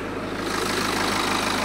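A BMW 520d G30 xDrive diesel with 119,110 km on it idles with the engine bay open, giving a steady, even rumble throughout with no speech.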